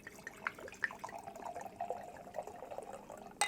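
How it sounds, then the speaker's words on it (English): Merlot from a grape-skin wine kit splashed vigorously while being poured to aerate it, a soft continuous liquid rush with a few drip-like ticks, faint and close, ending in a brief louder spill. "I'm just going to go ahead and give it just a big splash."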